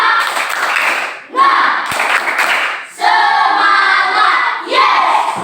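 Schoolchildren in a classroom clap a 'tepuk semangat' rhythm while chanting loudly together, with a few sharp claps and thumps showing through the crowd of voices.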